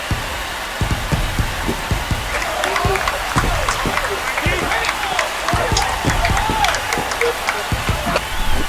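Home crowd at a Twins vs. White Sox baseball game applauds and roars after a home run, a broad, sustained wash of clapping and cheers filling the stadium throughout.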